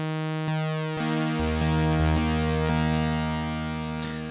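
A bright, buzzy sawtooth pad on a Prophet-5 Rev4 synthesizer plays sustained chords that shift every half second or so, each note ringing with rich harmonics and a gentle release.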